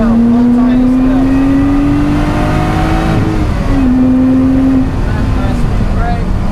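A car powers along the Donington Park track, the engine note rising steadily and loud from inside the cabin, dropping sharply at a shift before climbing once more, then easing off.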